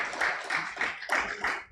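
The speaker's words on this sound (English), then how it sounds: "Please do better with the applause" Scattered clapping from a small audience at a manufacturing conference panel, several bursts of hand claps rising and falling, fairly faint and without voices.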